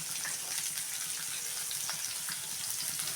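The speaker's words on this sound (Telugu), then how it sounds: "ఆనియన్స్ వేగేటప్పుడు ఎప్పుడైనా కూడా కొంచెం ఉప్పు అయితే వేయాలండి" Onions sizzling in a hot pan with a pinch of salt, a steady crackling fry with faint stirring scrapes running throughout.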